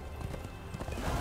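Horse hooves clip-clopping in the video game Darksiders 2, a quiet run of quick, evenly spaced hoof beats at a trot, faint and unaccompanied by voices.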